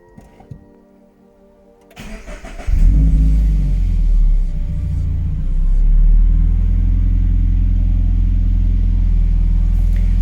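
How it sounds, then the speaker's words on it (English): A car starts up after an oil change. A short crank comes first, then the engine catches with a loud rumbling surge and drops into a steady, deep idle that runs to the end. "I'm gonna start the car."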